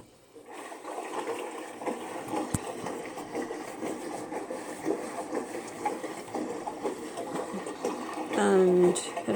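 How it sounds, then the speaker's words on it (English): A front-loading washing machine runs a hot water wash cycle during cleaning with vinegar and baking soda. Steady sloshing and a mechanical hum continue, a rising whir comes near the end, and a voice seems to talk over it. "Okay, and then I started a hot water wash cycle"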